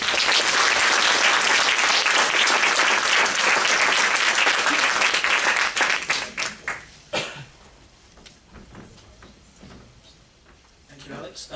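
A lecture hall audience claps loudly after a public talk on the global antibiotic crisis, the dense applause thinning into scattered claps over several seconds before fading to quiet room noise.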